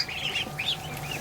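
Young ducklings in a barn give high, thin peeping chirps, several overlapping calls in quick bursts, fairly close and clear over a soft background hiss.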